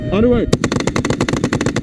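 An M1 Abrams tank's mounted machine gun fires a rapid, loud burst of closely spaced shots on a training range, following a brief low rumble at the start.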